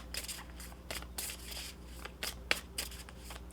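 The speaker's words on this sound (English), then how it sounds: "Let's pull you some additional guidance cards." Tarot guidance cards are shuffled close by in quick, papery riffles and slaps, several bursts in a row with soft rustling between them and no voice.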